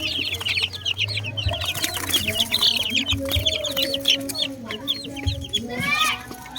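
Backyard chickens and chicks cluck and peep continuously, with close hen clucks over a steady chorus of high chick chirps and a low background hum throughout.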